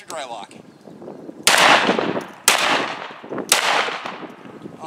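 A Beretta A300 Ultima Patrol 12 gauge shotgun fires Winchester Super Target shells outdoors, three loud, sharp blasts about a second apart, each followed by a long decaying boom, after faint talk.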